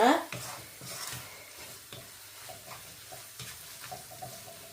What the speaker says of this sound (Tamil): இப்போ சுகரை போட்டுட்டு நெல்லை வரிதான் மிக்ஸ் பண்ணிக்கிறோங்க